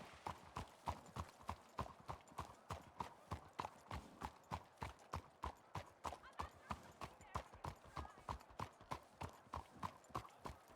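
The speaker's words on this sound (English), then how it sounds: "I have to canter to keep up with him." A horse canters in a video game, its hooves falling in an even three-beat rhythm, clear and close, repeating steadily the whole way through without pause.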